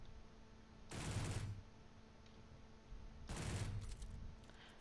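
Weapons fire in Space Engineers, with two sustained bursts of rapid gunfire, each about half a second to a second long, separated by a quieter gap with a low background hum.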